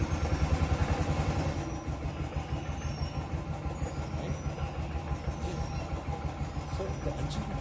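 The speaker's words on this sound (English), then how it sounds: "let me start the bike for you. Just see, it gets started so soon." Royal Enfield Thunderbird 350 motorcycle engine fires up and settles into a steady single-cylinder idle, a close, regular low thumping pulse that continues evenly after the start.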